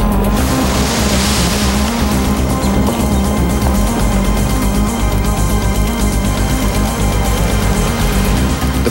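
A brief car ride in Fiji carrying an adventure-race team to the coast: a loud, continuous engine drone and road rumble from inside the vehicle, steady and unbroken throughout.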